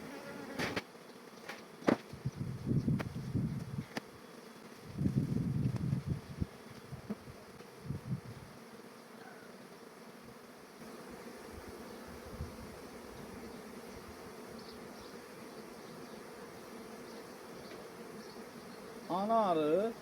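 Honeybees buzzing around a Dadant hive with thirty-frame boxes and a freshly added second body, a close, steady hum with louder bursts of buzzing as bees fly near.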